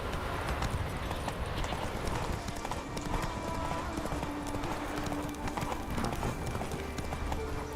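Steady clip-clop of the horse Roach's hooves walking in The Witcher 3, a continuous even rhythm that runs the whole time, close and clear over a soft game ambience.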